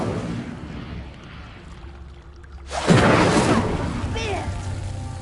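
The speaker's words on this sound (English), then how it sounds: "The flames make the pyre sink." An Incendio fire spell burning a pyre in the Hogwarts Legacy video game, a sudden loud whooshing roar of flame midway that keeps crackling and rushing afterwards over a low game ambience.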